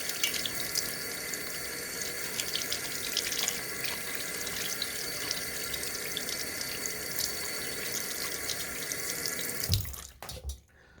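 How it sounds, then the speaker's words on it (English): Tap water runs steadily into a sink as eyeglasses are rinsed under the stream. A broad, even splashing hiss lasts about ten seconds, then the flow is shut off and only a few faint drips follow. "Rinse everything off."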